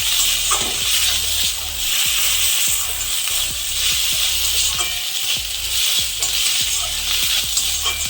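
Ginger and cumin paste fries in hot oil, a steady close sizzle and hiss broken by regular soft scrapes of a spatula stirring the pan.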